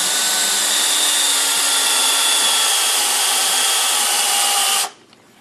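A hand drill bores into wood for a lattice box, a loud, close, steady whine that runs for nearly five seconds and then cuts off abruptly into quiet.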